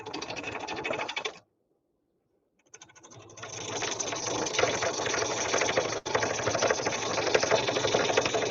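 A woodturning gouge cuts wood on a lathe with a rough, rhythmic chattering scrape, stops for over a second, then resumes and continues steadily, close by.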